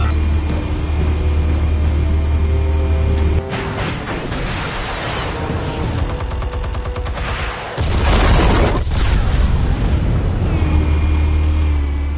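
An explosion in the Telltale Batman video game: a loud, sustained rumbling roar with crackling debris and a brief sharp break partway through, all heavy and close, with no talking.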